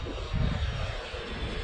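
A Freewing F-14 model jet with twin 80mm electric ducted fans flies nearby, giving a loud, steady whooshing roar with a rumbling low end and no pauses.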